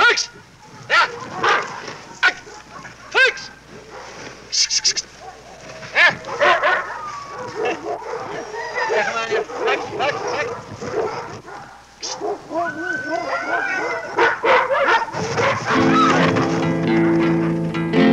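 A team of six sled dogs barks and yips in irregular, overlapping bursts at close range, with a voice calling out among them and a steady tonal hum rising near the end.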